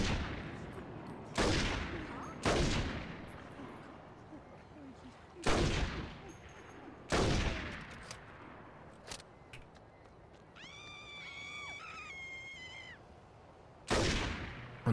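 Gunfire in the video game Saints Row 2 during a gang shootout, with several loud, separate shots and bursts spaced a few seconds apart over quiet background noise, plus a brief electronic tone partway through.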